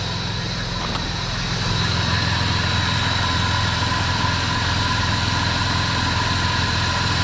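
A BMW E36 M3 engine idles steadily and close, a continuous even drone with a faint belt whine on top, and no other sounds over it.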